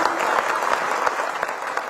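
Crowd applause at a government event in Rajasthan, steady, fairly loud clapping from many hands that runs throughout without pause.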